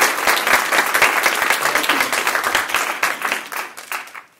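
An audience claps steadily and warmly to welcome Dr. Jonathan Patz at a population health lecture. The dense applause fills the hall, then thins and fades out over a few seconds.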